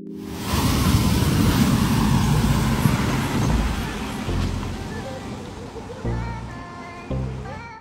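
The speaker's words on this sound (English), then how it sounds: "The driver here instantly regretted driving through the water." A car drives through water, with a loud rushing splash and engine roar that builds, then fades into lighter sloshing and road noise.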